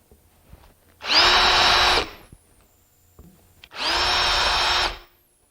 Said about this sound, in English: and it's simply a matter of drilling.